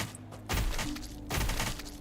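Two heavy blasts from a twin-shot shotgun sniper rifle in When the Light Dies, each a loud booming report with a short tail, spaced under a second apart over a low game background.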